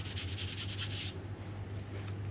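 Hands turn over and shape a ball of brioche dough on a work surface, making soft, close rubbing and brushing strokes in a quick repeated rhythm that stops partway through, with no talking.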